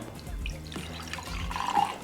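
Multifruit juice poured into a glass gives a soft, close trickle with light splashing, quiet and continuous for about two seconds.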